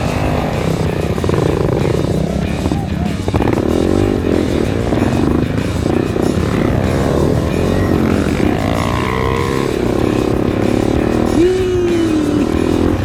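A Yamaha TW dual-sport motorcycle putters along muddy trails in the rain, its engine chugging steadily and loudly throughout with shifting revs, wind rushing and brief shouts from a rider.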